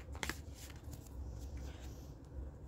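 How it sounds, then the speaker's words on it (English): A deck of cards shuffled by hand, several quick soft riffling bursts, faint and close with no talking. "I'm going to shuffle."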